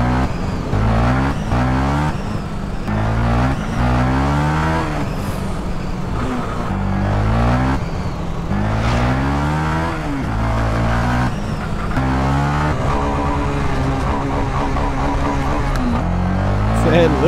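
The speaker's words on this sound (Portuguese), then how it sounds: "Não dá vontade de parar de andar nessa moto" A Honda Twister 300F motorcycle ridden in GTA San Andreas revs loudly and continuously, its engine pitch rising and falling over and over as it accelerates and shifts.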